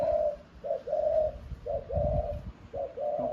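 A zebra dove in an aviary coos repeatedly, several soft rolling notes in a steady pattern, close and clear with a faint low rumble underneath.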